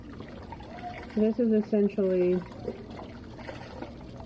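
Chicken broth pours from a carton into a cooking pot in short gurgling glugs under a person talking, fairly close.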